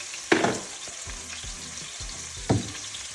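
Oxtails sear in a hot pan with a continuous close frying sizzle. A few sharp knocks and clatters of the pan or utensils cut through, and no one talks.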